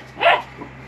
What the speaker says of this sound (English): He doesn't bark until we start.